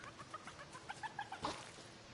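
A chicken in the video game Fortnite clucks in a quick run of short, close notes that rise to a louder squawk before trailing off, with no talking.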